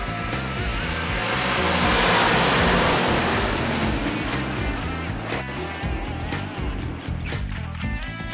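Race cars roar off at the green flag on a racetrack, a dense, loud wash of engine noise swelling and holding throughout, heard from trackside amid crowd ambience.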